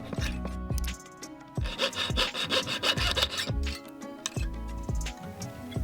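Steady back-and-forth rasping strokes, close and fairly loud, as a slot is cut into a metal coin for a fishing jig lure, in a regular rhythm with no talking.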